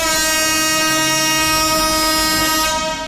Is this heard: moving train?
yes